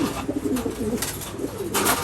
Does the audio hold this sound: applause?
no